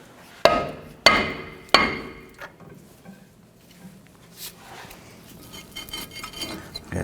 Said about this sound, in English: We want to remove our brake rotor from the hub assembly.